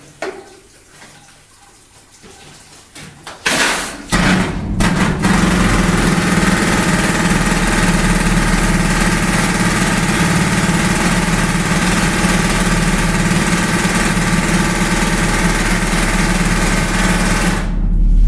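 An 1888 Holman drifter antique pneumatic mining rock drill starts up after a few seconds and hammers continuously in a steady, harsh roar at about 130 decibels, with bursts of hissing air.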